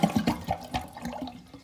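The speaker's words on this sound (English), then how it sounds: "Just hold the handle up so all the water can drain down." Water drains from a toilet tank held open by its handle, a short gurgling, bubbling rush with irregular glugs fading over under two seconds, close and moderately loud.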